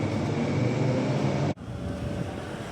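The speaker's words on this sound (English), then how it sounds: "So that train will go." A train departs Oats Street Station with a broad, steady rumble, close and loud, that dips sharply for a moment and then carries on.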